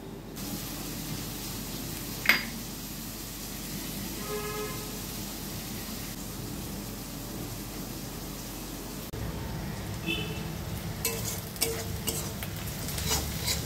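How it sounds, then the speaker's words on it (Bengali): Onions fry in a pan for a Kerala-style crab roast, a steady sizzle with stirring scrapes running throughout and a brief sharp clink near the start, close and alone without talk. "পেঁয়াজগুলো এখানে লাল করে ভাজা হয়ে গেছে।"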